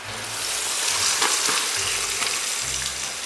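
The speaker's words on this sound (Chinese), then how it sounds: "把油干烧一下，温度升高一点，再复炸一下" Century eggs deep-fry a second time in reheated hot oil, a dense steady sizzle and crackle filling the clip up close, with faint stirring clinks and no talking.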